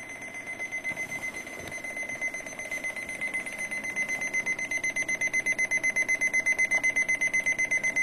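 An alarm clock's alarm with no volume control beeps in a fast, steady pulsing pattern that grows slightly louder over several seconds and keeps going continuously, close by and clear with no talking over it.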